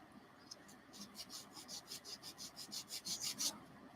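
Coarse abrasive rubbing back and forth across a part of an Airfix 1/24 Spitfire Mk Vb plastic model kit, a steady series of about a dozen rasping strokes that grow louder toward the end, close up with no talking.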